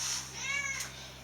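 A cat meows once in a quiet room, a drawn-out, close, wavering call lasting about a second over a low steady hum.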